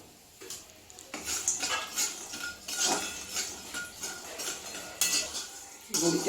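Masoor dal bori fries in a pan and is stirred with a metal utensil, giving repeated close scrapes and clinks over a faint sizzle, in irregular bursts.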